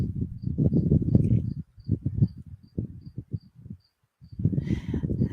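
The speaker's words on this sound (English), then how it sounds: "I'm hearing the leaves rustling, cars going by, the late August crickets, occasionally a cicada." Late August crickets outdoors chirp in a steady, evenly spaced series of faint, high pulses, set against a louder, fluctuating low rumble in the background.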